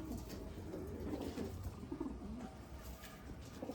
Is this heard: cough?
no